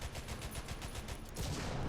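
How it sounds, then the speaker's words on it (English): Rapid tank machine gun fire from an AC IV Thunderbolt in War Thunder, a steady dense rattle of shots loud and continuous throughout, with no talking. "Just gonna shoot my machine gun until we know we can do damage."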